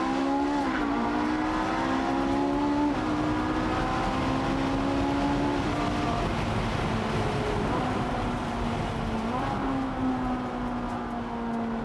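A Ferrari 4.5-litre V8 revving hard toward 9,000 rpm while driving, loud sustained engine note climbing through gears with brief drops at each shift, heard from inside the car.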